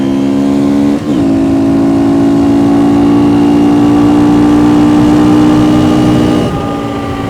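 A KTM 250 EXC-F dual sport motorcycle idles loudly up close, its single-cylinder engine blipped with a sharp rev near the start, then holding a steady high drone before dropping back down; no talking.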